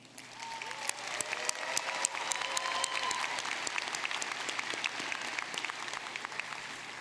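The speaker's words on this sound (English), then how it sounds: "Would those receiving master's degrees please stand and receive our applause?" Steady applause from a large commencement audience at a Lamar University College of Engineering graduation honoring master's degree recipients, dense continuous clapping held at an even level throughout without speech.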